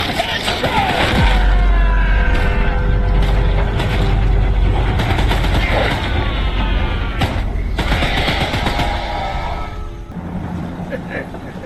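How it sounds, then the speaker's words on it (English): Mounted gun in Choo-Choo Charles firing at the monster train, a loud continuous mechanical rattle of rapid shots that runs for about ten seconds with dense low rumble, then drops away near the end; mixed with game effects, no speech. "Don't let the gun overheat!"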